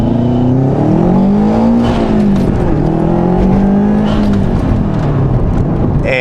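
A turbocharged car, just repaired after a boost leak, accelerates hard through the gears, its engine note climbing and dropping with each shift, loud and close from inside the cabin with no talking.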